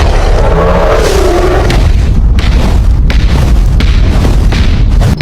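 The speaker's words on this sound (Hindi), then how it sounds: "ये किसके कदमों की आवाज है?" A giant monster's heavy cartoon footsteps approach with booming thuds, loud and close, repeating over a dense, rumbling roar.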